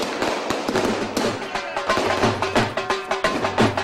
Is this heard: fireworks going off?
yes